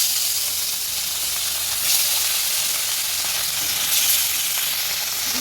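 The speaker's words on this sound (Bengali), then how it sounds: "তেল হয়ে গেছে এখন কড়াইতে মাছ দিয়ে দিলাম" Steady, loud sizzling of fish frying in hot oil in a wok, a continuous bright crackle with brief swells, no voices.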